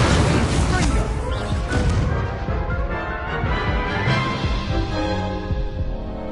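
Fiery Incendio spell blasts in the Hogwarts Legacy video game, a dense, roaring burst of booming energy that dominates the opening seconds and then trails into a sustained rumbling wash mixed with game music.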